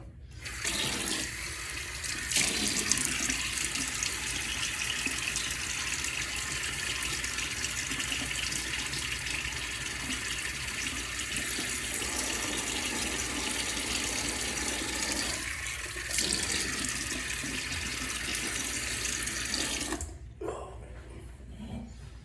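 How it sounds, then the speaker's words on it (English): Tap water runs steadily into a sink to wet the face before a wet shave, a loud continuous rushing splash that lasts about twenty seconds and then stops abruptly, close by with no voice. "Let me get my face wet."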